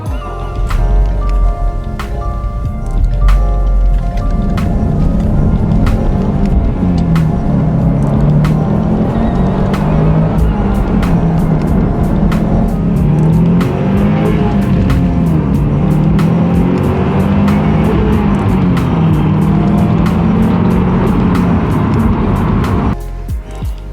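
A Subaru WRX STI is driven on the road, its engine a loud continuous drone that rises and shifts in pitch as it accelerates, with a steady clicking pulse over it and a brief drop near the end.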